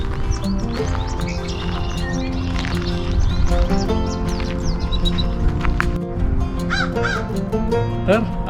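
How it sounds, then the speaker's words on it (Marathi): Crows caw and smaller birds chirp and tweet in Fletcher Wildlife Garden at the Central Experimental Farm in Ottawa, overlapping calls near and far over a busy outdoor background. "पक्ष्यांचा आवाज तर तुम्हाला येतच असेल."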